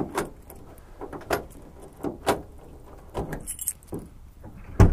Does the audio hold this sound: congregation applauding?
no